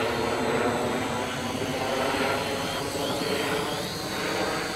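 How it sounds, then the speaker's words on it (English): A hospital life-flight helicopter passes overhead, a steady whirring, droning rotor and engine noise that stays fairly loud and constant throughout, with no voices. "It's actually a life flight helicopter for the hospital."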